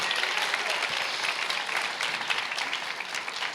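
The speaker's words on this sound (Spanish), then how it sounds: "Aplauda fuerte al Señor." A church congregation applauds for the Lord during a post-camp service, a dense, even wash of clapping hands that holds steady and close for the whole stretch with no talk over it.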